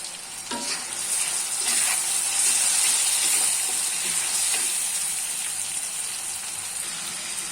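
Ginger, garlic and onion paste fries in a pan with already-browned onions for a chicken curry, giving a loud, continuous sizzle with stirring scrapes throughout and no talking.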